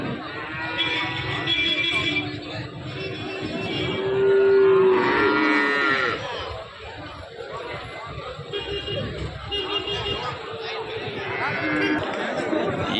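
Cattle at the Karungalpalayam cattle market in Erode moo loudly several times amid a busy crowd, their calls rising over a steady murmur of chatter, with someone speaking close by.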